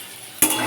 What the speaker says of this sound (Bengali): এই তেলেতে আলুটাকে ভেজে নেব